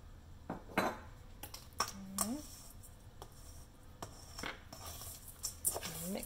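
Granola is mixed with maple syrup in a bowl: irregular clinks and scrapes of a utensil against the bowl, fairly quiet, with someone talking in between.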